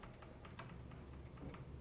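A connected computer keyboard being tapped during PC startup to enter the BIOS: quick, light, irregular key clicks, very faint and close, with no voices.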